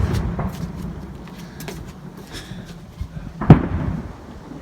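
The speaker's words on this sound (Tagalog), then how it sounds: "Fireworks! Fireworks!" Canada Day fireworks in Taber, Alberta pop and crack in the distance amid background rumble, with one louder thud standing out near the end.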